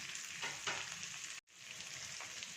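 Curry leaves, chilli flakes and a green chilli frying in oil in a pan, a continuous close bright sizzle with faint stirring, briefly cut off for an instant before the hiss resumes.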